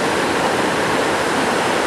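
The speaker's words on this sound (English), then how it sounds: "Just water coming over the slab." Water pours over a rock slab in a mountain stream on an Adirondack trail, a steady, close, broadband rushing roar with no voices.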